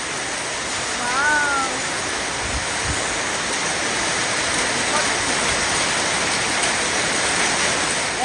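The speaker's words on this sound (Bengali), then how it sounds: "বাইরে হচ্ছে অনেক জোরে বৃষ্টি" A steady, heavy roar of rain with falling hail fills the whole clip, with a faint cat meow briefly rising above it early on.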